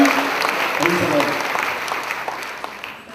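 A church congregation claps hands together in a loud, rapid burst of applause, mixed with voices calling out, fading slightly toward the end.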